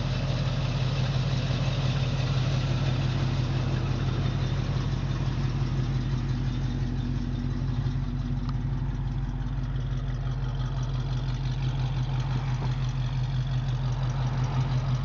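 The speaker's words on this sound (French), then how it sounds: "cette Ford Mustang Fastback années 66" A 1966 Ford Mustang Fastback with a 289 cubic inch V8, automatic gearbox and dual exhaust idles steadily for about fifteen seconds, a loud, close, deep rumble holding an even rhythm without revving.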